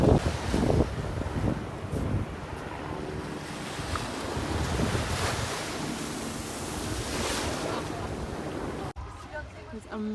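Ocean waves roll and wash steadily onto a chilly Australian beach, with heavy wind buffeting the microphone throughout and the surf cutting off near the end.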